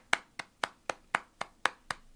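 Single pair of hands clapping slowly and evenly, nine sharp claps at a steady beat, close and alone with no talking.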